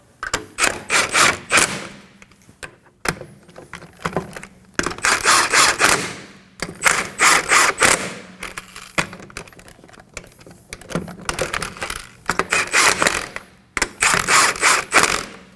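Lug nuts on a Kia Sorento wheel are tightened with a ratchet, giving loud, rapid clicking bursts in repeated runs separated by short pauses.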